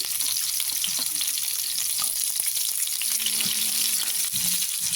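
Chopped onion sizzling in hot oil with black cumin and green chillies, a steady dense crackle holding level throughout, with a soft low scrape of stirring near the end.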